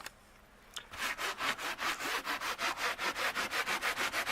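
A carpet stain inside a van is scrubbed by hand with fast, even back-and-forth strokes, about twenty rhythmic rasps close to the microphone after a brief quiet start.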